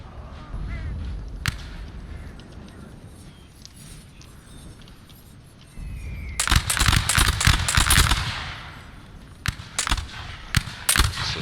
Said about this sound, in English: Jaeger Corps still firing into this infantry unit with their accurate rifles